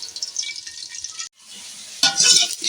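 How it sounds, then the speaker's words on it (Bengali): Potatoes and cauliflower sizzle in a pan as they are sautéed and stirred. Soft frying hiss breaks briefly, then louder scraping and stirring sounds come up close, with no voices. "আলুটা কষা হয়ে গেছে"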